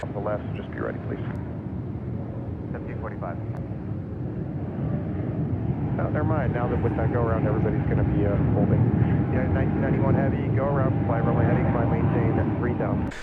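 A Boeing 777 airliner going around: a steady, loud jet engine roar that builds slightly over time, with people talking over the engine noise for most of its length.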